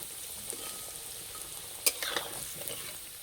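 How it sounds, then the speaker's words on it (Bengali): Rosh pitha dumplings fry in hot oil with a soft, steady sizzle and crackle, brief sharper spatters popping up partway through, all fairly quiet and close. "ঠিক এইরকম করে ভেজে নিতে হবে।"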